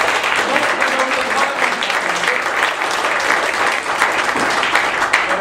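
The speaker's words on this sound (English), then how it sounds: "I think everyone should give the candidates a round of applause so far." An audience at a Santa Clarita Valley Republican Assembly candidates forum claps continuously for several seconds, a dense, fairly loud wash of applause with no pauses.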